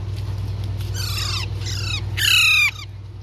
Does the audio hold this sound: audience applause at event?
no